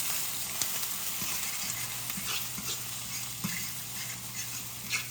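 Eggs frying in a hot pan, a steady close sizzle with faint crackles and a few soft scrapes or taps, no talking.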